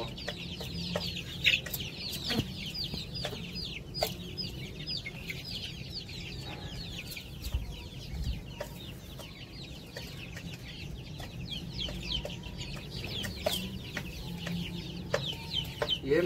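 A large flock of hens kept in bulk clucks steadily and close by, with many overlapping calls and a busy background murmur throughout.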